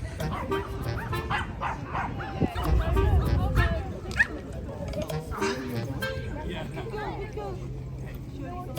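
Pomeranian dogs at an outdoor meetup in Hyde Park, London, giving small yips, barks and whimpers from several directions amid crowd chatter.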